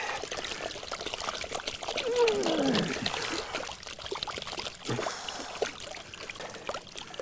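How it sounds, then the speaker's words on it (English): Water sloshes and trickles steadily as gold-bearing concentrate is swirled in a heavy gold pan, a continuous close washing sound with small splashes and dribbles throughout. "I'm gonna lose some out panning it, but I'm gonna give her a go here so we can take a look."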